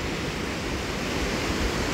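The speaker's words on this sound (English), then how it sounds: "then you got the view of the water coming down through here" Windin Falls waterfall pouring down over rocks into a swimming pool below, a steady, dense rush of falling water filling the whole clip without a break, close and fairly loud with no voices.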